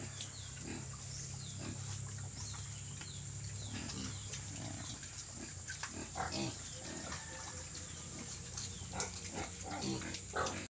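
Native pigs on a rural provincial farm grunt and snuffle in short, scattered bursts over a steady low farmyard hum, moderately close, with no talk.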